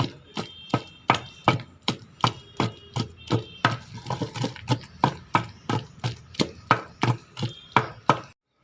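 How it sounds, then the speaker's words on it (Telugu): Small onions pounded in a stone mortar, a steady run of about two dozen sharp, close thuds in an even rhythm, each with a brief crunchy, wet squish. "ఇప్పుడు నలిగింది చిన్నెల్లిపాయ."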